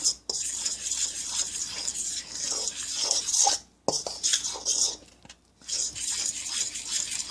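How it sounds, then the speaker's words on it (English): A fork mixes sticky vegan dumpling dough in a bowl, giving a steady, close scraping and clinking that runs with a few brief pauses. "I'm just going to use a fork, and this will be a sticky mixture because again it's dumplings"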